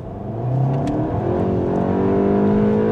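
Car engine heard from the rear cabin while driving with an automatic gearbox on a slightly damp road: a continuous, steady drone with rising tonal layers as the car pulls forward, loud and without talk.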